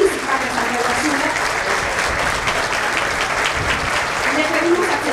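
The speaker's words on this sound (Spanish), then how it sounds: "despedimos con un fuerte aplauso a los señores y señoras regidores" Strong, sustained applause from an audience at a municipal government inauguration ceremony in San Pedro Sula, honoring departing council members; dense, even clapping fills the whole stretch without a break.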